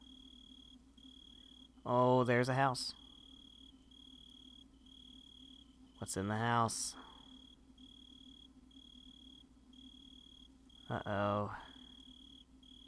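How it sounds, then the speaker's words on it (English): Crickets chirp steadily at night in the horror video game Drowning, a faint, continuous high trill running through the whole stretch while a person speaks briefly in short phrases over it. "It's very quiet. Just some crickets."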